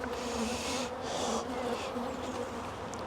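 Honeybees buzz around a split hive during a beekeeping inspection, a steady close drone with swells as individual bees pass near, fairly quiet and without any voices.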